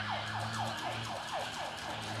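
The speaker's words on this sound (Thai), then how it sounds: "ให้รถหวอไปก่อน" An emergency vehicle siren passes near a political rally at Chamai Maruchet Bridge in Bangkok, its rapid wail rising and falling in steady, repeated sweeps over a constant traffic hum.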